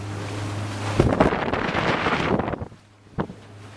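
A small fishing boat motors across open water, a steady engine hum with wind buffeting the microphone and splashing water that grows loud, then drops away before a brief bump near the end.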